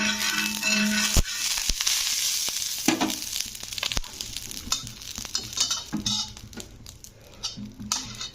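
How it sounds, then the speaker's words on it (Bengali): Oil spread on a hot griddle (tawa) before dosa-style batter goes on sizzles close and crisply, with scraping and clicking as it is spread around the edges. No one speaks. "তো এবারে সামান্য একটু আমি তেল ছড়িয়ে দিলাম"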